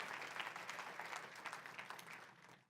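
A church congregation at a Spanish-language worship service bursts into strong, sustained clapping that stays dense and even, then tapers off near the end.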